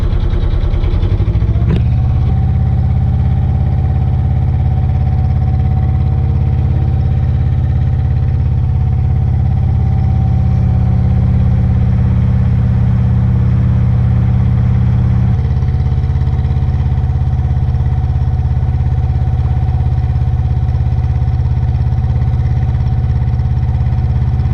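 A narrowboat's new low diesel engine idles steadily on the Birmingham and Fazeley Canal for the whole stretch, a constant rumble with a faint whine on top. No voices.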